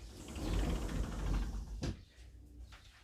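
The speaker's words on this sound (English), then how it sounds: "just going to close this door" A door swings shut with a single solid knock, cutting through a fairly loud, steady rushing noise in an indoor room and leaving the space much quieter afterward.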